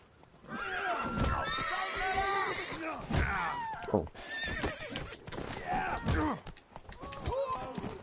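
A horse in The Witcher 3 whinnies several times in shrill, wavering bursts over hoof clops and game noise, close and fairly loud across the stretch, with voices faintly mixed in.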